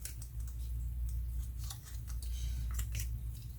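Paper craft petals being folded and creased by hand make soft crinkles and sharp little snaps against a steady low background hum, several quick handling sounds close up.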